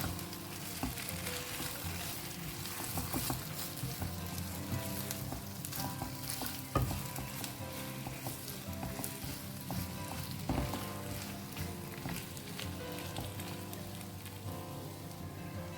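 Steady, dense sizzling of fried paneer, capsicum and onion in a pan, with occasional louder crackles and stirring clatter throughout; no voices.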